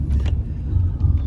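A low, steady road rumble fills the cabin of an air-conditioned car driving in 48-degree Dubai heat, brief and without speech.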